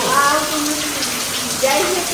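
Rainwater streams into a storage tank during a night rainstorm, a continuous splashing gush with a trickling, bubbling texture, heard close and fairly loud for about two seconds.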